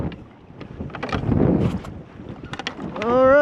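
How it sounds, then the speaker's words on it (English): Wind buffets a small fishing boat on open water during a flathead fishing trip, loud broadband rushing and gusts on the microphone that swell in the middle, with a brief voice near the end. "wind is just miserable"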